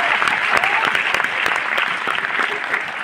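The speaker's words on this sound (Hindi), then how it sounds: "ठोको ताली" Audience at a success celebration in Delhi bursts into applause, dense continuous clapping from a crowd heard close and loud, with a few sharper claps standing out.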